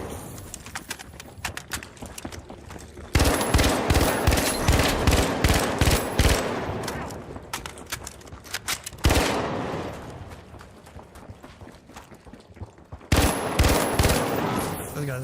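Automatic gunfire in the Marathon video game practice range comes in loud, close bursts of rapid shots, separated by quieter stretches of lighter firing and game sounds.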